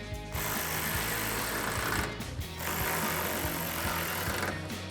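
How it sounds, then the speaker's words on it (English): A 10mm socket tightening tail light bolts on a 2005-2015 Toyota Tacoma, a rapid, steady mechanical chatter like a power ratchet running almost continuously and loud, with a brief dip partway through. "we'll grab that 10mm socket to tighten these down"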